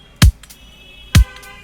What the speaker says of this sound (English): For the drums I'm using this kick.